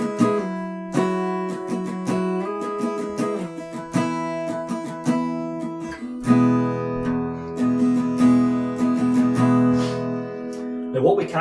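Acoustic guitar strums an E-based chord progression from a song, full rhythmic strokes with ringing chords, close and steady with no talking.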